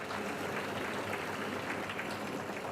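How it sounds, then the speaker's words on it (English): An audience at the 2023 South African Mathematics Foundation awards function applauds, a soft, even patter of many hands heard from a distance, faint and unbroken like light rain, with no talking. "Keep on applauding, he's from far out."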